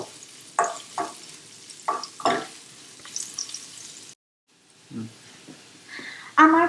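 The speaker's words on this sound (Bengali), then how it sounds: "এরপরে আমরা এর অর্ধেক আমরা হালকা লাল করে ভাজবো।" Onions frying in oil in a pan for a Bangladeshi rui fish curry with sour yogurt, giving soft sizzling with intermittent stirring scrapes and a brief silent gap, close and moderately quiet.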